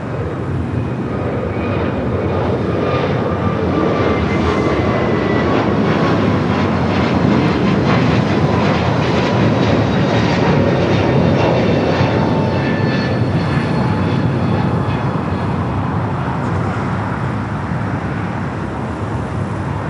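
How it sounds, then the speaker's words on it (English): United Airlines A321neo jet taking off at LAX, a loud sustained engine roar with whining tones that slowly descend in pitch as the aircraft passes, filling the whole stretch without talk. "Next takeoff is United Flight 1946 heading to Chicago O'Hare."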